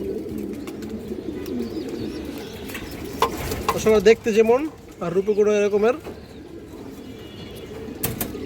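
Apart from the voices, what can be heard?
pigeons cooing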